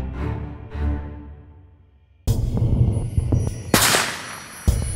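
A single loud, sharp rifle shot cracks out partway through after a fading tonal passage, followed by a rough, noisy tail and another brief bang near the end.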